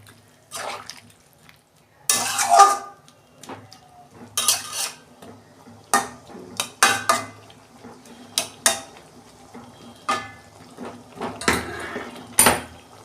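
A cooking pot of vegetables is handled and covered with a lid, sharp metallic clanks and scrapes coming in irregular bursts up close, with a few faint watery sounds between.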